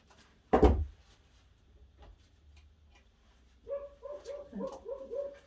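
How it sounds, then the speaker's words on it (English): A neighbour's dog barks several times in the mid-distance, a short burst of yaps with harmonic tone heard near the end after a loud knock, set outdoors beside work on an artificial flower window box display. "That's my neighbour's dog."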